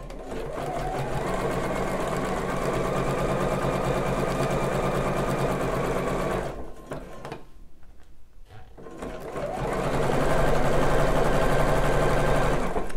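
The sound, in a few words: sewing machine stitching bra elastic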